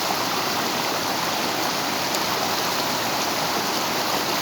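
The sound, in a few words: waterfall water flowing at a dam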